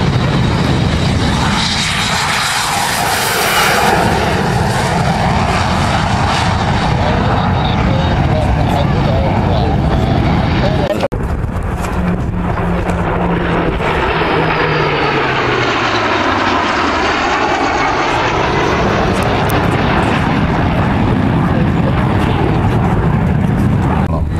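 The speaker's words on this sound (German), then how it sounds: "Nämlich der Vampire jetzt gerade am Starten bei uns." A de Havilland Vampire jet taking off at a Swiss air show in Mollis, its loud broadband engine roar holding steady throughout, swelling and shifting in pitch as it passes, with a commentator talking over it.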